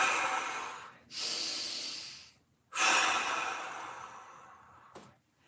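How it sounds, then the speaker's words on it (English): Deep, slow breaths drawn in and pushed out during a gym mobility exercise, two long broadband exhales with a short catch near the end, close and clear with no talking. "Couple of big breaths."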